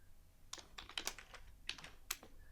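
Close, crisp keystrokes on a computer keyboard while an HTML and CSS project is being coded, coming in short irregular bursts with brief pauses and no talking.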